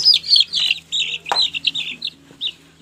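Chicks peep in rapid high chirps while being moved into a new pen on a small farm, close and lively with brief pauses and a few soft clucks between them.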